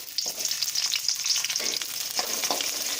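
Onions sauté for a fish curry as a spoon stirs them through the pan. The bright, close sizzle is continuous, with soft scraping strokes and no talking.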